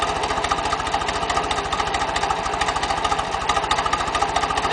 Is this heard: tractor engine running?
yes